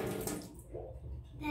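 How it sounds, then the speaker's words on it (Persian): A water tap runs with a loud, broad splash into a basin during hand washing for ablution, then cuts off sharply, leaving a quieter room. "آب را کاملا میبندیم."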